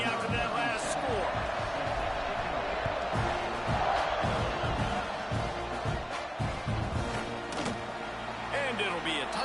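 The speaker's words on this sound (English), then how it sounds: "this crowd is buzzing after that last score" Stadium crowd in a football video game roars and buzzes steadily after a score, a dense wash of cheering with scattered shouts and thumps, while commentary voices talk over it throughout.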